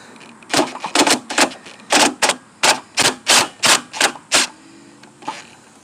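Screws on a 2008 Chrysler Sebring headlight frame are backed out with a tool, giving a close, loud run of about a dozen evenly spaced ratcheting clicks that stops abruptly near the end.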